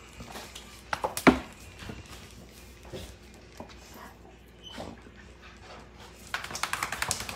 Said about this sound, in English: It's clicking its teeth, Mike.